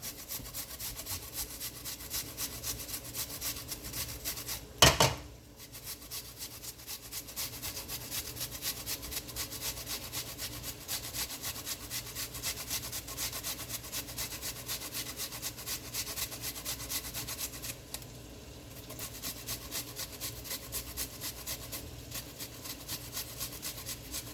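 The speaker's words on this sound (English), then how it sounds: "I'm gonna grate up some ginger." Fresh ginger is grated by hand for Jamaican-style sweet and sour pork, a steady, close scraping-rubbing sound that runs continuously with one brief louder knock near the start.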